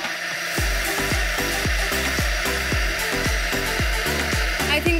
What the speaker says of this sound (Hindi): अच्छा, अब मुझे लगता है ये बिल्कुल सही से ब्लेंड हो चुका है